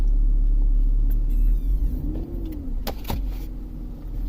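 A 2001 BMW X5 with the 3.0 L engine, showing a cylinder 6 misfire code and catalyst efficiency faults, idles close by as a steady low rumble, with a few brief clicks and a faint whine partway through.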